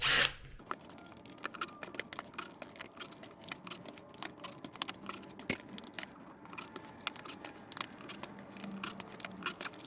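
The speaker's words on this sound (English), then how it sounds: "Now I can go ahead and pop these side cover bolts out." Side cover bolts being removed from a 2000 Honda XR200R motorcycle engine: repeated small metallic ticks, clicks and ratcheting taps from a hand tool, close but quiet, with no talking.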